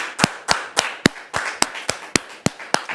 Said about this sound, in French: Merci, très cher public, de recevoir notre invité avec vos applaudissements